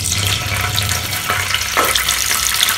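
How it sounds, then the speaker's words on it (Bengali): Paneer pieces fry in a pan of oil, giving a loud, close, continuous sizzle with a few sharper crackles and spatters, steady throughout and without any talking. "এবার পনিরটা ভেজে নেব"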